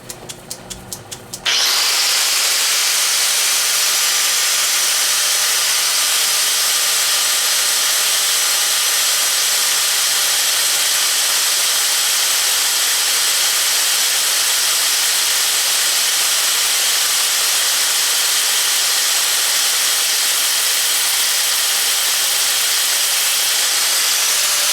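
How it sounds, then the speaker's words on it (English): An angle grinder cuts into metal while building bicycle wheels, starting with a short stutter and then holding a loud, continuous high-pitched hiss and whine close by. "we're just going to shove a grinder,"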